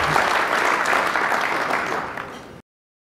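Audience applause at a formal speaking event, a dense burst of clapping from a crowd that holds steady, thins slightly, then cuts off abruptly.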